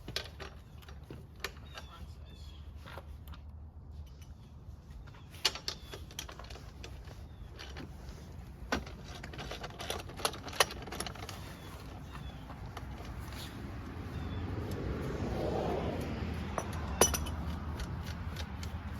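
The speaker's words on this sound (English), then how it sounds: "we have to take off the front wheel. And so, to do that, we have to undo the nuts." A wrench works the front wheel nuts of a Razor dirt bike, producing scattered close metallic clicks and ratcheting ticks, with a low rushing rise near the end.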